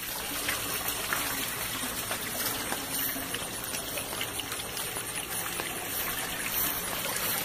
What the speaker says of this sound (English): You can see we got decent water flow. This is everything coming out of the fish tank.